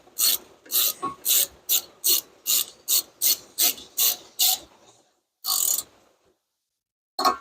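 A hand ratchet tightening wheel or car bolts on a 2012 Chevrolet Impala LTZ, about a dozen quick rasping clicks in an even rhythm, then a short pause, one longer ratcheting burst and a final click, close and alone.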